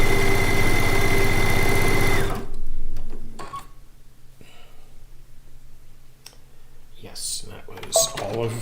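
A sewing machine stitching a quilt seam runs loud and steady for about two seconds and then stops, leaving quiet handling noises and someone speaking.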